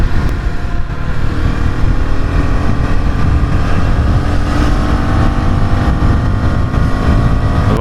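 A Husqvarna Svartpilen 250 single-cylinder motorcycle engine drones steadily while being ridden, loud and continuous with buffeting wind noise throughout and no talking.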